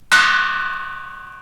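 A single bell struck once, close and loud, its bright metallic ring sustaining and gradually decaying with nothing else heard.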